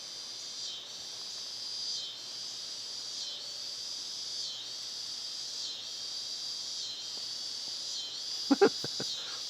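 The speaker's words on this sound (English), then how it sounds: "I love the sound of cicadas." Cicadas drone in a high, steady hiss that swells in regular pulses roughly every second and a half, moderately distant in a quiet summer setting, with a brief nearby sound near the end.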